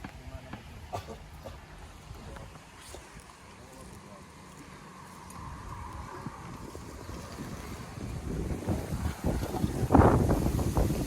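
Wind gusts across an outdoor site where a brick fence wall is being built, a low rumbling buffet that rises in strength toward the end, with faint background voices.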